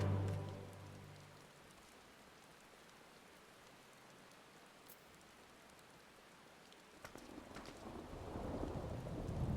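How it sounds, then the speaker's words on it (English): Rain and thunder in Final Fantasy XIV, a soft steady rainfall hiss with a low rumble of thunder at the start and a swelling roll near the end. "Oh, it is rain here."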